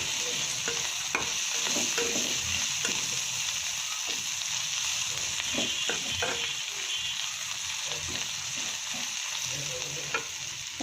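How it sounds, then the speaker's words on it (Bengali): Dried fish frying in a pan with spices such as bay leaf, cardamom, cinnamon and cloves, a steady close sizzle with repeated scraping and stirring strokes throughout. "শুটকিটা প্রায় ভাজা হয়ে যাচ্ছে"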